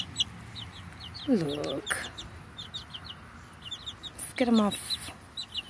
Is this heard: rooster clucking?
yes